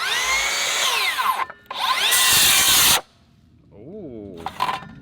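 A Makita cordless circular saw whines loudly through a cut, drops out, surges again for a second burst, then stalls abruptly as the blade binds, leaving near silence with brief faint noise afterward.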